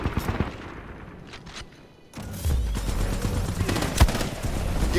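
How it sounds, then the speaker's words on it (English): Automated turrets in the video game Titanfall 2 open fire in sustained, dense bursts of gunfire that grow louder and continuous after a brief lull, with one sharper crack standing out near the end. "You can't outrun turrets."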